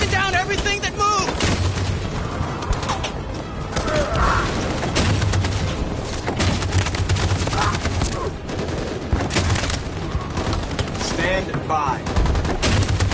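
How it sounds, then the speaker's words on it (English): Heavy machine gun fire rakes a battlefield in Detroit: Become Human, with dense sustained bursts and booming impacts running nonstop, loud and close, while a voice briefly calls out over the din. "That machine gun is taking down everything that moves!"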